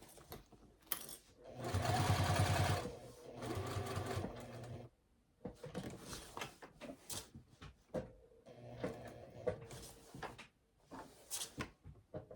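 A home sewing machine stitches in several runs of whirring, rhythmic clatter, loud then pausing between bursts, with handling clunks in the gaps.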